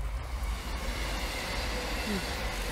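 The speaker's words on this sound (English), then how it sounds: "Train." A train passes near an outdoor spot where an RC crawler truck is being driven, a steady broad rumbling roar filling the whole moment.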